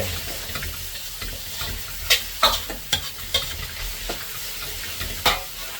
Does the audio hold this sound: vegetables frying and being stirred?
yes